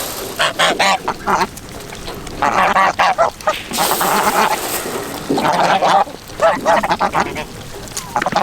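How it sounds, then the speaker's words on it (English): Geese on a farm with goats raise a loud, harsh clamour of honks and raspy hissing bursts at close range, coming in repeated waves with other farm animal calls mixed in. "I think one of the mad geese is hissing at me."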